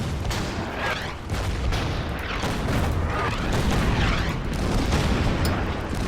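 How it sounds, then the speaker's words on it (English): Artillery barrage in the WWII strategy game Order of Battle at Kasserine Pass, a dense, continuous stretch of booming blasts and rumbling detonations layered over one another, loud and sustained with no pauses and no talking. "Now the artillery will start working its wonders"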